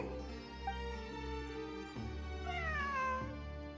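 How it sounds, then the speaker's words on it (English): A cat meows in the video game Genshin Impact, with a drawn-out, wavering meow and then a second rising one, clear and close over a steady musical background. "It really is a cat."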